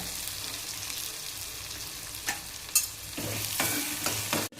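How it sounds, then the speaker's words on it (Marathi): Hot oil sizzles steadily as garlic and chilli are tossed in, with a few sharp crackles and spoon scrapes against the pan. "चला आता आपण फोडणी देऊया. लसूण आणि मिरची टाकून घेऊया."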